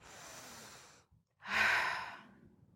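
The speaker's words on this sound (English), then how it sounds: "And I take a deep breath." A single deep breath, a long audible inhale followed after a short pause by a louder, fuller exhale like a sigh, close and alone with no talking.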